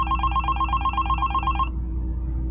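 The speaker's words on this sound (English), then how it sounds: "when the phone rang" A telephone bell rings in a rapid trilling burst for under two seconds, then cuts off, leaving a low steady hum in the background.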